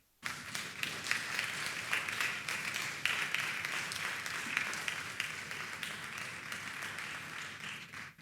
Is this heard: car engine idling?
no